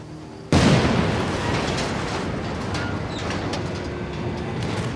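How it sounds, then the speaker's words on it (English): A sudden loud explosion in the World War II VR shooter Medal of Honor: Above and Beyond bursts out after half a second, then fades into a long, dense roar and rumble that lasts to the end. "That explosion got the attention of all the German patrols in the area."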